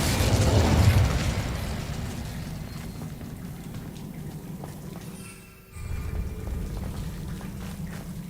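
A fiery Incendio spell blast in the wizarding game Hogwarts Legacy: a loud whooshing burst up front that rumbles and fades into a crackling, sizzling tail, briefly dipping before the ambience returns.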